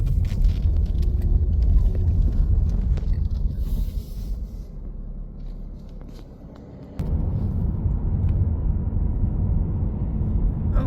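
Car driving along a road in Nesbit, Mississippi, heard from inside the cabin as a steady low engine and tire rumble that eases off briefly, then returns louder.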